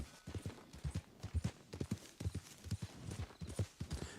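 Steady clip-clop of a piebald tobiano horse's hooves in Red Dead Redemption 2, a continuous rhythmic trot of soft thuds with the footfalls evenly spaced throughout.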